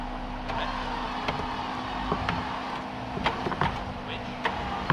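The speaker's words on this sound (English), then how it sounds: "Now, as you drive, work the winch." A stuck Jeep off-road driving out while its winch pulls, a steady low engine drone and mechanical hum with scattered clicks and knocks, close and continuous, with faint voices at times.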